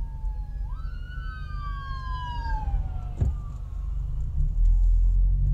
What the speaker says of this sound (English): Got an ambulance rolling by.